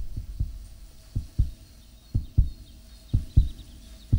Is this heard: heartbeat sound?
yes